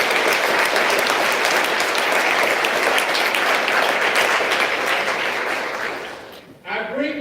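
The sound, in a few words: applause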